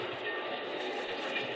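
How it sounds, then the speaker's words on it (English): A steady rumble from a train pulling out of a station, a radio drama sound effect with dense rolling noise heard continuously and fairly close over a short stretch. "as the train pulled out"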